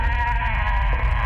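A goat bleats in a horror video game, giving a single drawn-out, nasal, wavering cry that sounds loud and close and carries on without any talk over it.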